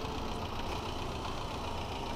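Tractor engine idling in Farming Simulator 22, a steady low rumble that holds at an even level throughout with no voices over it.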